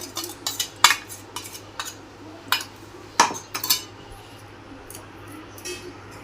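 Spoon scraping and clinking against a pan while curry leaf chutney is stirred and mixed, giving a string of sharp metallic knocks and scrapes with short pauses, close and fairly loud.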